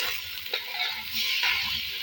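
Two garlic cloves dropped into a pan for Turkish-style lentils give a soft, close sizzle with light stirring scrapes, a steady hiss lasting about two seconds with no talking.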